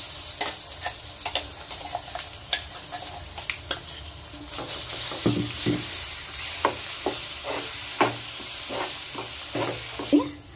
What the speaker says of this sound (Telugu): పోపులోని బాగా పచ్చడి కలిపేసాం కదా